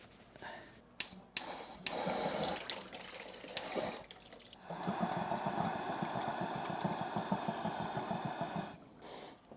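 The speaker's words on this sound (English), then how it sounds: "So I got the air compressor hooked up, but I've limited the amount of pressure." Compressed air from a pressure-limited air compressor blowing old coolant out of a Triumph Street Triple R cooling system, bursts of loud hiss and spray followed by a long steady rushing, gurgling flow up close.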